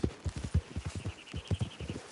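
Horse hooves clip-clop at a steady walking rhythm in Red Dead Redemption 2, close and fairly quiet, with a faint tonal hum in the background.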